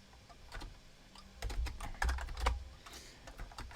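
Close, irregular clatter of computer keyboard keys while writing Perl code, bursts of quick taps with some louder key strikes, no voice present.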